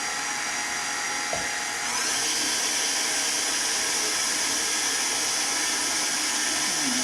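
An electric stand mixer churns bread dough for a garlic pepper cheddar loaf on a low setting, a steady high-pitched motor whine that holds evenly throughout with a slight shift in tone early on.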